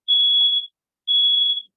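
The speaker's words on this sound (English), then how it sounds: "So there's the smoke detector." A super-sensitive smoke detector gives two loud, shrill electronic beeps, each about half a second long, separated by a short pause, with nothing else heard.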